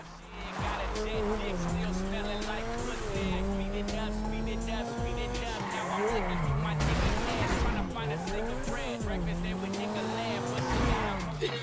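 Turismo supercar in a Grand Theft Auto 5 Online race, its engine roaring loudly and steadily throughout, pitch climbing and dipping as it shifts through gears with brief tire squeals.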